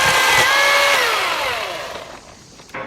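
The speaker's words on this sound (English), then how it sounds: "They all brought saws. Everybody's sawing everything." A loud power saw cutting dead branches whines close by, its pitch falling as the engine winds down and fades out.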